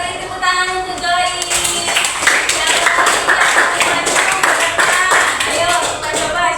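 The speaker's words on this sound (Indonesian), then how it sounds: "beri tepuk tangan untuk Joy" Classroom students clapping for a classmate, a burst of many hands applauding together that follows a teacher's voice and continues for several seconds, with speech mixed in.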